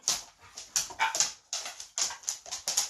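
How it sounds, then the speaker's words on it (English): Hyperactive dogs whimper and yip indoors in a rapid string of high, excited whines, close and fairly loud, with no one speaking. "so the dogs are a bit hyperactive"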